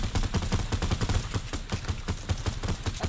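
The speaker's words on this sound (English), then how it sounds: "I'm shooting at them" Rapid automatic gunfire in Fortnite, a video game, rattles in a loud, dense and continuous stream of shots, with no speech over it.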